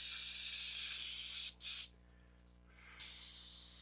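Glass cleaner sprayed from a bottle during airbrush work makes a loud continuous hiss that cuts off briefly, resumes for a moment, drops away for about a second, then returns steadily.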